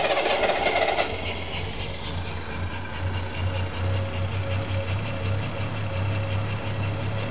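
A Triumph TR6 six-cylinder engine with fuel injection and individual throttle bodies fires up after a short burst of cranking, then settles into a steady, close, low idle with a faint hiss over it.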